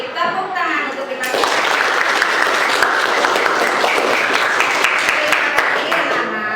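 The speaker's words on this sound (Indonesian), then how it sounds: "tepuk tangan untuk kita" A classroom of junior high students claps together in a dense, loud burst after a spoken cue, the clapping continuing steadily to the end.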